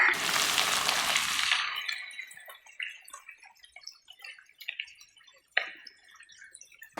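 Small onions (shallots) dropped into hot coconut oil with popped mustard seeds, a loud burst of sizzling that quickly dies down into scattered crackles and pops, one sharper snap near the end.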